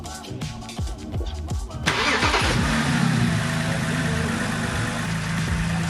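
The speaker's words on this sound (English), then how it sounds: "it's a good idea to start the car and make sure it's running properly" A BMW with an N52 engine and 180,000 miles cranks with a rapid chugging starter, catches, then settles into a steady, loud idle running close by.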